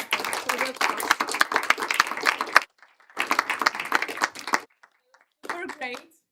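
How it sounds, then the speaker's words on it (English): Bursts of applause for the speakers at an online meetup, coming in three clapping stretches separated by short silences, moderately loud. "I would like to ask you also for applause again for Evgeny, Martin, and me for the talk."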